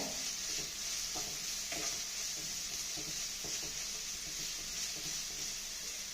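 Shallots, curry leaves and crushed ginger and garlic fry in oil for a chicken curry, giving a soft, steady sizzle with repeated light stirring scrapes, fairly faint and without any talking.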